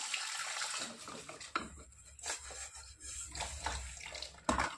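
Dishes are washed under a running tap at home, with a continuous close splash of flowing water and occasional light clinks of pots and utensils, and no talking.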